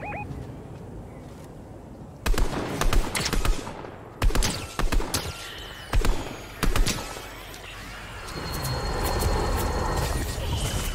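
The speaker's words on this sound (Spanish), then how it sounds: "Tiros." Several bursts of gunfire in the video game Fortnite crack out in clusters after a quiet start, followed by a steady background rumble.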